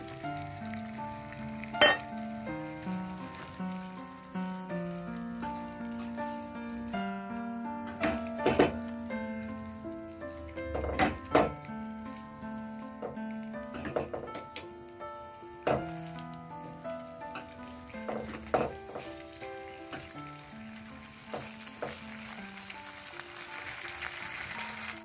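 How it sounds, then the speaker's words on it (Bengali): Cauliflower frying in spice paste for cauliflower rezala, a soft, low crackling sizzle running throughout with intermittent clinks and scrapes of stirring. "ফুলকপিটার সাথে বেশ কিছুক্ষণ কষে"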